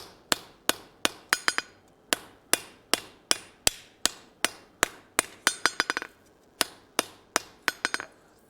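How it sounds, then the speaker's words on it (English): Sharp metallic hammer blows on hot steel at a forge, ringing out in a steady rhythm, mostly single strikes with a few quick bursts of rapid taps, close and loud. "as you hammer this, it is going to get smaller"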